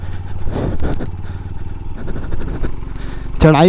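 A Yamaha FZ-X motorcycle riding off-road, its engine droning steadily up close with a rising rev near the end, while someone talks over it.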